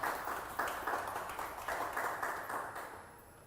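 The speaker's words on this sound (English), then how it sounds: "Let's give them a big round of applause." A crowd applauds panelists at a crowdfunding event in soft, distant bursts of clapping that swell and fade repeatedly, growing quieter toward the end.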